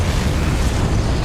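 Confringo fire spell blasting in Hogwarts Legacy, a dense, loud burst of fiery explosive rumble that holds steady across a short moment, heavy in the low end with no voices.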